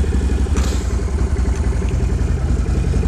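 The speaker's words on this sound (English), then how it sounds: "and hit the starter button." A low-mileage Can-Am Renegade 1000 V-twin ATV engine cranks and catches, then settles into a loud, close, lumpy rhythmic idle that clatters steadily throughout.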